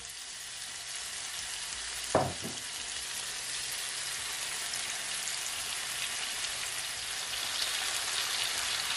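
Brown stew chicken frying in a pot, a steady close sizzle throughout, with one brief clatter of a spoon stirring early on before the frying hiss settles back, growing slightly louder toward the end.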